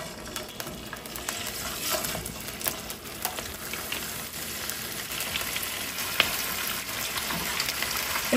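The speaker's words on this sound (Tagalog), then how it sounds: "Prituhin muna natin ng konti." Chicken pieces frying in cooking oil for adobong manok sa gata, a steady close sizzle and crackle running throughout with occasional faint scrapes of a utensil.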